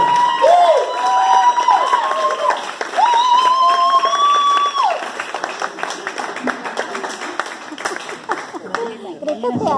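Church audience at a youth recital clapping loudly and cheering, with whoops and shouts rising over dense clapping that continues and thins toward the end.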